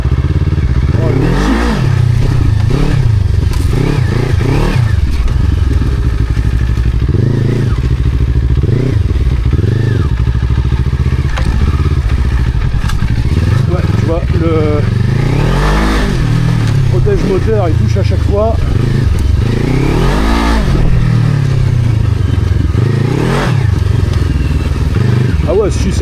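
A trail motorcycle revs and accelerates in repeated bursts over rough terrain, loud and close, with clattering thumps from the ground and a rider talking over the engine.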